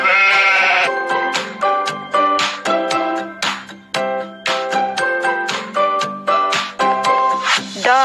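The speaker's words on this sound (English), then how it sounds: "Sheep." A sheep bleats repeatedly in loud, wavering calls, one after another with short gaps, close and clear with nothing else around it.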